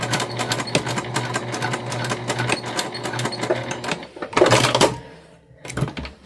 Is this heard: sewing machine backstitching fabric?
yes